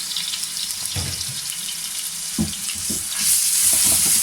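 Ginger garlic paste sautéing in hot oil in a pan, giving a steady close sizzle with a few louder crackling bursts and a brief scrape of stirring, without talk.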